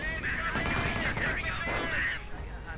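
Gunfire and mortar rounds in a war video game as British Panzer Grenadiers come under fire, a dense rattling, thumping barrage with dramatic swelling tones over it, loud and continuous throughout.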